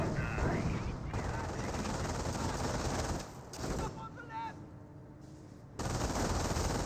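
Staghound armored car machine gun fire in the World War II strategy game Company of Heroes, dense rattling bursts amid battle noise and mixed under a commentator's voice, with brief quieter gaps.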